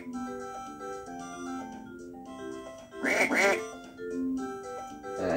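Duck quacks from the 2005 Dora the Explorer game on the V.Smile console: a short, loud burst of quacks midway through, over looping electronic game music.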